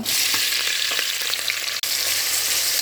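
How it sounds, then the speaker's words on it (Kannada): Onions, tomatoes and curry leaves fry in oil in a pressure cooker with a steady, close hiss and crackle throughout, plus a few faint stirring clicks and no voices. "ಒಂದು ಕುಕ್ಕರಲ್ಲಿ ಒಂದು ಮೂರು ಸ್ಪೂನಷ್ಟು ಎಣ್ಣೆಯನ್ನು ಹಾಕಿದ್ದೀನಿ ಈಗ ಆಮೇಲೆ ಒಂದು ನಾಲ್ಕು ಈರುಳ್ಳಿ ಆಮೇಲೆ ಒಂದು ಎರಡು ಟೊಮೆಟೊ ಸ್ವಲ್ಪ ಕರಿಬೇವು ಸೊಪ್ಪು ಇದು ಫ್ರೈ ಮಾಡುವ"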